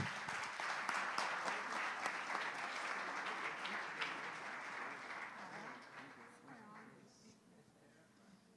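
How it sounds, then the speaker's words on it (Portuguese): A church congregation applauds during a celebration service, with a full, sustained wash of clapping that gradually thins and fades toward the end. "vamos aplaudir Cristo"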